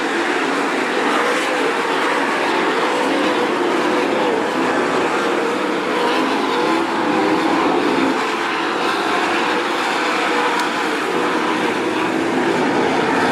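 410 sprint cars racing in an A-Main on the dirt oval at Attica Raceway Park, a dense, steady engine roar that stays loud and close for the whole stretch with no break and no clear voices.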